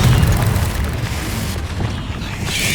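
Confringo blasting spell in the Hogwarts Legacy video game, a single booming explosion at the start that rumbles and decays into a noisy wash over nearly three seconds.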